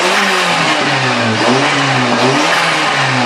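A Toyota GT Turbo / Glanza engine runs on low boost with the boost solenoid blocked, giving a loud, close, continuous droning rev that rises and dips in pitch with no talking.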